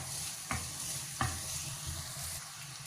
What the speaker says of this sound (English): Stir fry the garlic.